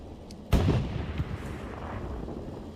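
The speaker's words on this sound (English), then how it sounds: "Well, now they're taking a shot, I think, from a medium tank. 2 tanks shooting at them." Medium tank cannon fire in the WWII game Hell Let Loose: one heavy, booming shot bursts out loudly and rolls off into a lingering rumble, with fainter distant battle noise around it.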